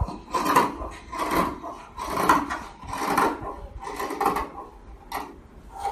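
Chudidar top fabric being cut with scissors: a series of rasping snips and rubbing strokes in a steady rhythm, close and moderately loud, with no talking.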